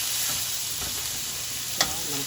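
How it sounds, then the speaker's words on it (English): Frozen beef for tacos cooks in a pan, giving off a continuous close sizzle and one brief sharp clink of a utensil against the pan partway through. "So I am cooking the tacos to someone else."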